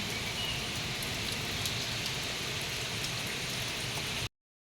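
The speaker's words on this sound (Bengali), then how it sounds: "হাওয়াও দিচ্ছে তার সাথে বৃষ্টিও হচ্ছে সকাল থেকে একদম বন্ধ হয়নি" Heavy, continuous rain with wind gives a dense, steady hiss that stays level throughout and then cuts off abruptly near the end.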